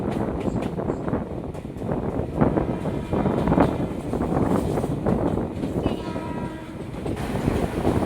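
A Sealdah–Barrackpore suburban local train runs along the line, a loud close rumble and rattle of the carriages with rhythmic clatter throughout, heard from on board.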